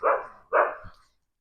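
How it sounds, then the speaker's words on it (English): Two loud, close dog barks, sharp and back to back, followed by a softer short yelp before silence. "Dog's going mad."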